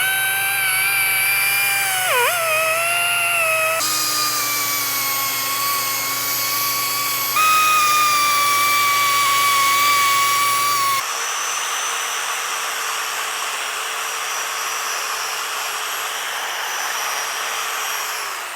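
An air-powered Dremel-style rotary tool grinding rust off a sprinkler pump, a loud continuous high whine that dips briefly under load and changes pitch in steps as pressure on the metal varies, close and without talk.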